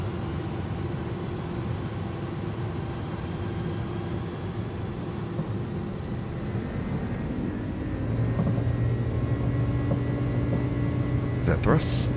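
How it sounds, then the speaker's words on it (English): A simulated Airbus A300 airliner spools its engines for takeoff, a steady broadband roar that swells and grows louder partway through as thrust builds, with faint clicks near the end. "Enjoy this takeoff."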